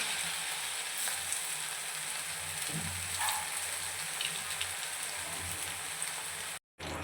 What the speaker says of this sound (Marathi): गोल्डन ब्राऊन रंग येईपर्यंत अलटून पलटून आपल्याला हे छान असे फ्राय करून घ्यायचे आहेत